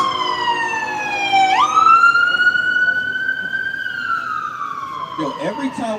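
An emergency siren, from a fire truck or ambulance, passes close by, rising sharply and then holding a loud, drawn-out wail that slowly falls as it moves away, with some street noise underneath.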